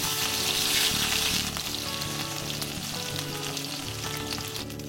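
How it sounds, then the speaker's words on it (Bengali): Pieces of rohu fish frying in mustard oil in a pan, a loud, steady sizzle that swells briefly at the start as the fish goes in, then holds a dense crackle with no talking. "এবারে মাছের পেটির তেলের দিকটা নিচে রেখে মাছগুলো ছাড়বে।"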